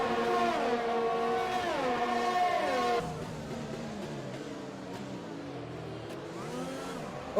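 Formula 1 cars racing in F1 2020 at the Canada Grand Prix: high engine whines rising and falling through gear changes, the nearer car fading after a few seconds as others keep revving more quietly.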